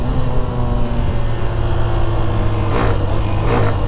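A Hero Xtreme 125R motorcycle engine pulls hard under acceleration, a loud steady drone that rises slightly in pitch, with wind rushing past and no talking.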